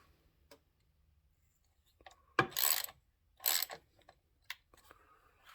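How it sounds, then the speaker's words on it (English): A hand ratchet wrench loosening a bolt on a Sachs Dolmar 153 100cc chainsaw, giving a few short bursts of clicking ratchet action separated by quiet pauses, close up. "I'm going to take my ratchet here"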